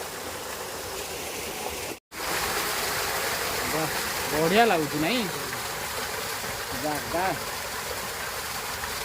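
Water crashes down at a waterfall at the Jogi Jogiani Buddhist site in Khandapada, Nayagarh, a steady, close, full roar that cuts out for an instant before resuming, while someone talks briefly over it.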